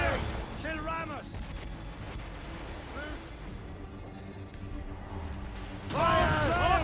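Ship cannons firing in an Assassin's Creed Rogue naval battle, a dense rumble of booming shots and blasts layered under shouted commands from crew voices.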